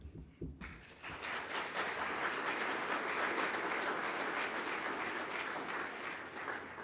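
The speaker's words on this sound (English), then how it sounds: "Did I get you 2 rounds of applause?" An audience at a panel discussion on business, race and sports breaks into applause after a brief pause, the clapping swelling quickly and then holding as a steady, moderately loud roar.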